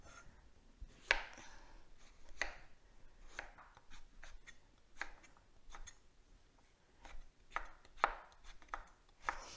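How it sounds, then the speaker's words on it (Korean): A knife dices steamed kabocha squash, skin still on, into cubes on a board: a dozen or so soft, quiet chops at irregular intervals, close by and isolated. "제가 깍둑썰기를 할 텐데요"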